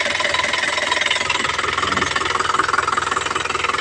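An Isuzu Crosswind diesel engine runs after repair, a close, loud idle with a fast, even knocking pulse under a steady clattering hum.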